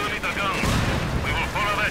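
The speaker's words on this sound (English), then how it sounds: "Grenades going off on the MG" Grenades bursting and gunfire crackling in a Company of Heroes 2 battle, a loud, dense mix of booms and rapid shots with a commentator's voice running over it.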